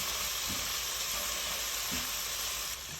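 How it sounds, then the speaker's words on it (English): Butter melts in a pan alongside frying peppers, giving a steady, dense sizzle and hiss close by, with a few soft stirring scrapes and no talking. "let that melt while those peppers are cooking"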